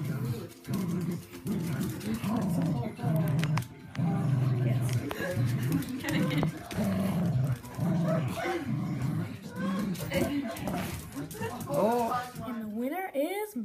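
Small dogs tussle over a big toy about twice their size in a tug-of-war game, with steady growling, yips and whimpers. A person talks over the play throughout, and a high whining cry rises toward the end.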